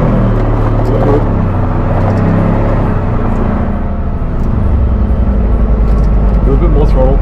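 A car engine revs and drones loudly while driving on sand dunes, a continuous low rumble that rises and falls as the throttle bounces, with voices talking over it throughout.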